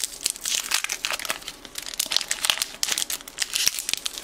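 A 1992-93 Topps Stadium Club Series 2 basketball card pack wrapper crinkles and crackles in close, busy bursts that run almost without pause, with a few sharper snaps. No one speaks.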